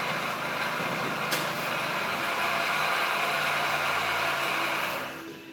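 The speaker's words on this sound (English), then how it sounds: "that growly noise that you heard was the AC compressor. Sounded like the bearings were shot in it" A 2009 Dodge Caliber with worn AC compressor bearings, giving a steady, rough, growling engine-bay drone that stays loud throughout, with a brief sharp tick early on, before fading away at the end.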